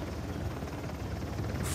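A helicopter in the video game Uncharted: The Lost Legacy, its dense rotor thumping and turbine roar steady and loud throughout, with no speech.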